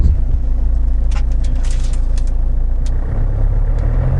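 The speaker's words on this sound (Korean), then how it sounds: "가속 부드럽게 잘 되고요" Hyundai Santa Fe 2.0 2WD engine pulling away and accelerating, a steady low rumble that stays loud throughout with a smooth tone.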